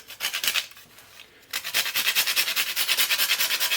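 Whole nutmeg grated by hand for a homemade apple pie filling: close, quick rhythmic scraping strokes, a short pause partway, then a steady run of even rasping strokes, with no talking.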